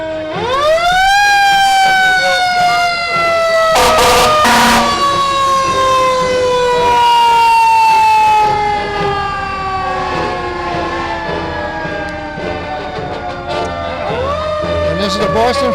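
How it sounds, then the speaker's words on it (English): A Lexington fire engine in a Fourth of July parade sounds its siren close and loud, a long rising then slowly falling wail, with a short burst of the air horn near the start. "Following Billerica is a Lexington engine."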